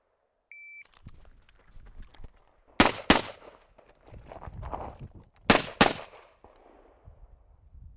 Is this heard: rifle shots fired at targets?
yes